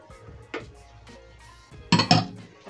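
Eggs cracked into a bowl while mixing Korean-style scallion pancake batter with sausages: a couple of soft taps early, then two louder close clinks and splats against the bowl near the end.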